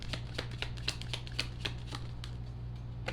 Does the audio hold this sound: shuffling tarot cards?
yes